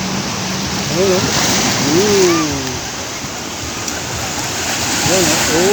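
Powerful waves at high tide pound and churn along a beach in a steady rushing roar that swells slightly, while someone talks intermittently over the surf.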